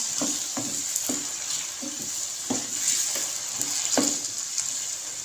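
Three medium onions fry in a pan with potatoes, a steady bright sizzle running throughout while a spoon stirs and scrapes in repeated soft knocks, close and clear with no talking.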